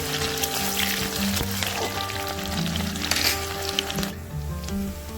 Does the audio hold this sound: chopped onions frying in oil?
yes